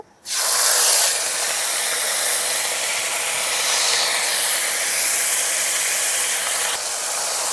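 Ginger paste is added to hot oil spiced with bay leaves and cumin, cooking on low flame for a rui fish curry. It sets off a sudden, loud sizzle that holds steady and close throughout.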